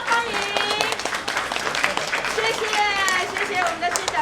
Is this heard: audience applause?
yes